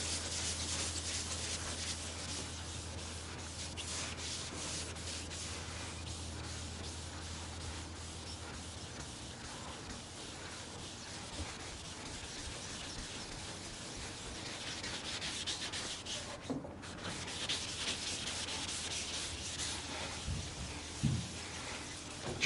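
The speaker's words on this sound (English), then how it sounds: "You can sand it all down to bare metal" Steady abrasive sanding on the painted body of a Chevy squarebody truck, a continuous close rubbing hiss that runs unbroken and fairly loud, with a low hum beneath it for the first part and no talking.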